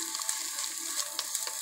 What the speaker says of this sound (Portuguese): nós vamos deixar no fogo bem baixinho e vamos mexer para o curry pegar